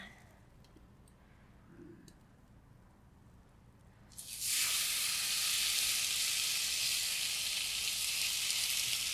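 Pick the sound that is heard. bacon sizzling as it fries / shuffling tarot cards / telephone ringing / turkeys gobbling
bacon sizzling as it fries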